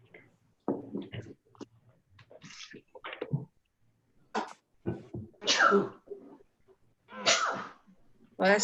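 Several sharp sneezes burst out in quick succession amid scattered speech at a city council meeting, each a short loud explosive puff.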